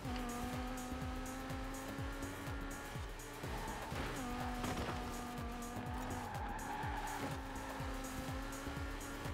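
A BMW M6 Coupe races in Forza Horizon 4, its loud engine revving up through the gears again and again, each rising whine dropping at a shift, with tire squeal mixed in.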